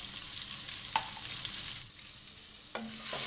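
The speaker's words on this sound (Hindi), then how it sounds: "प्याज को मैं पकाऊंगी यहाँ तक कि इसका लाइट ब्राउन कलर या लाइट गोल्डन ब्राउन कलर होना शुरू हो जाए।" Chopped onions fry in a pan for aloo keema, a soft continuous sizzle close by with a couple of brief scrapes as a spoon stirs them.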